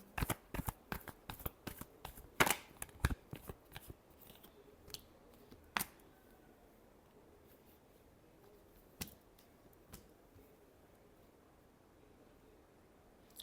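Tarot cards being shuffled by hand, a quick run of crisp riffling snaps up close, then sparser single flicks trailing off into quiet.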